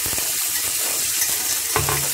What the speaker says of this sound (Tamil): கொஞ்சம் நல்லா வதக்கிக்கோங்க.